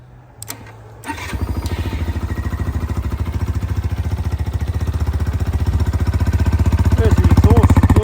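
A CFMOTO Papio SS Aspar Edition motorcycle engine catches after a brief starter crank and settles into a steady, close, loud idle with rapid regular exhaust pulses, gradually building a little toward the end.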